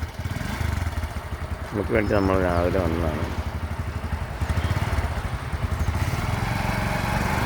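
A motorcycle engine starts and revs, rising in pitch as the bike pulls away and settles into a steady running drone, with people talking nearby over it.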